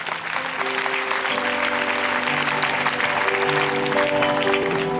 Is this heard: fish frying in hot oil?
no